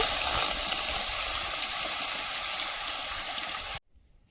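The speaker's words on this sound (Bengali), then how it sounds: "কড়াইতে জল দিয়ে দিচ্ছি এবার ডালটা সেদ্ধ বসিয়ে দেব" Water gushes into a hot wok over a clay stove, a loud continuous rushing pour with a hissing edge that stops abruptly near the end.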